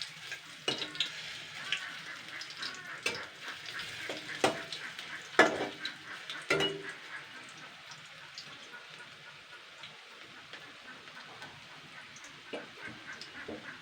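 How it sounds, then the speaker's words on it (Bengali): Brahmi leaf fritters fry in medium oil in a pan as they are turned over, a steady soft sizzle broken by sharp scraping and clinking taps of the turner, clustered early and then sparser. "এক পাশ ভাজা হয়ে গেছে, এবার আমি আর এক পাশ উল্টে উল্টে দিয়ে দেবো সবগুলো।"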